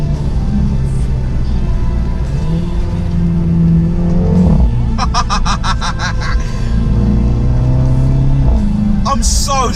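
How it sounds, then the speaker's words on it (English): A Mini Cooper S convertible with a Remus catback exhaust and DCT gearbox revs loudly and close, its engine drone rising and falling, with a rapid burst of crackling pops in the middle while someone talks over it. "This exhaust sounds ridiculous."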